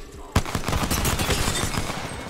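Rapid pistol fire from a P2020 in Apex Legends Season 8, a loud burst of quick repeated shots that starts abruptly and continues densely, with faint talk.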